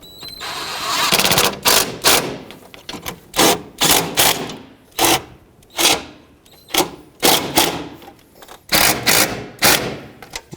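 Power tool snugging the four alternator mounting bolts on a 2012-2020 Nissan Pathfinder: about a dozen loud, close bursts of rapid hammering buzz, each lasting under a second, separated by short pauses.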